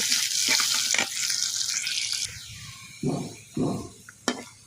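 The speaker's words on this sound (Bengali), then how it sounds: "আমি পেঁয়াজ আর রসুন দিয়ে দিচ্ছি এবার এগুলো আমি লাল লাল করে ছোয়াড়ি পুড়িয়ে নেব" Chopped onion and garlic fry in hot oil with a loud, close sizzling hiss that fades midway, followed by a few scraping stirs and a clink of utensils against the pan, and no voices.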